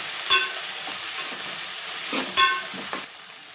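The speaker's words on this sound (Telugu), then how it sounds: "కలమండి బాగా ఫ్రై కావాలి" Chicken curry base fries in a pan with mint and coriander, a constant bright sizzle under a few louder spoon scrapes and metallic knocks, nearby and without speech.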